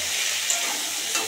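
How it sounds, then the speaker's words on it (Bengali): Spice masala is sautéed in a pan with vegetables, onion, tomato, potato and a cumin tempering, giving a loud, continuous hissing sizzle with stirring scrapes and no voices. "মশলাটা কষিয়ে নেব।"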